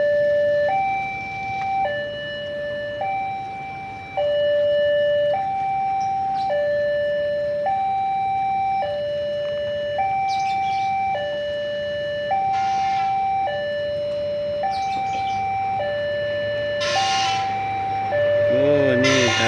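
A two-tone railway crossing warning siren alternates steadily between high and low pitches for a long stretch, loud and nearby, with brief background noises and occasional voices.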